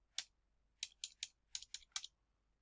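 Seven quick plastic key taps on a computer keyboard, entering a number into a calculator's programmer mode, come in a short uneven burst, faint and close, with near silence between presses.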